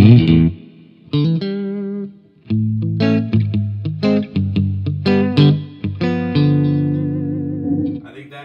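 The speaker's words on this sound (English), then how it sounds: "I think that is supposed to be the spring reverb." Electric guitar, an Ibanez RG450DX played through a Flamma FS02 spring reverb pedal into a Marshall 6100 amp, striking loud chords and notes whose tails ring out with reverb, alone without talk.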